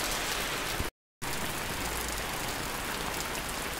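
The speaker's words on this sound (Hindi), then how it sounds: "तेज और स्पीड से बारिश बढ़ रही है" Heavy rain pouring down, a dense continuous hiss of drops drumming on surfaces, loud and close, with a brief cut to silence near the start and no talk.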